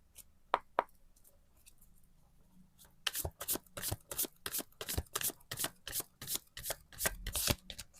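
Tarot cards are shuffled by hand in a quiet room: a few isolated taps, then a long run of crisp, rapid riffling snaps that continue steadily for several seconds, close and clear with no talk.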